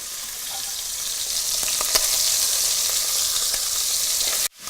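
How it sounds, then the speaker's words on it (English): Meat for a ragu sizzling steadily in a pan, a continuous bright hiss with small pops and crackles, close and fairly loud, cutting off abruptly at the end. "I can hear by the sounds that the meat is making that my first batch is probably done"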